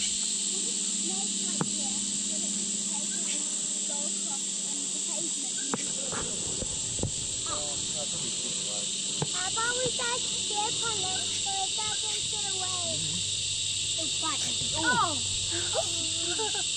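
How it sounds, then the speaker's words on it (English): A steady high insect drone of cicadas hums throughout at Pittwater, Australia, with chirping birds and faint rustling layered over it partway through. "With the hum of the cicadas in the background"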